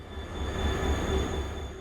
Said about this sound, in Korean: 디젤 기관차가 끌고 있네요.